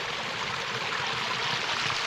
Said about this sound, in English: Must have been from the burn water as it was splashing over the icicles.